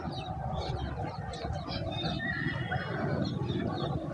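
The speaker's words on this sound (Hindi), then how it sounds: "ये आवाज़ है पंछियों की" Several birds chirp faintly in the morning, their scattered calls half buried under a steady, noisy outdoor background.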